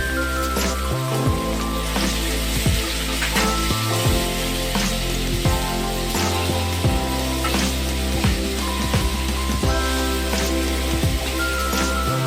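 Ginger-cumin paste spits and crackles in hot oil for kabuli chole, a dense, loud, close sizzle with rain-like patter that runs without a break.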